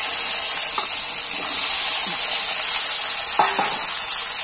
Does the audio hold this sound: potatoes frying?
yes